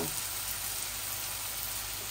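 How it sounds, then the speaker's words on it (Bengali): Eggplant and tomato pieces fry in a pan, a steady close sizzle and crackle that runs unbroken with no voices. "এইভাবেও আমার তরকারি গুলা ভাজা হচ্ছে, দেখছেন"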